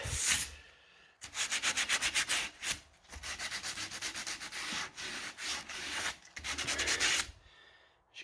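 Hand sanding of a painted wooden stair spindle or handrail, heard as close, steady rasping strokes in quick rhythmic bursts separated by brief pauses, with no talking.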